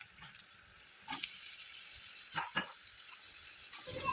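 Cabbage, tomato, grated carrot and capsicum fry in a pan for a masala sandwich, a soft steady sizzle broken by a few scraping stirs, close and fairly quiet.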